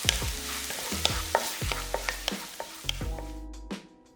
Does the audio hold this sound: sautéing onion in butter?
yes